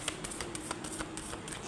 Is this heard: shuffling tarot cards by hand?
yes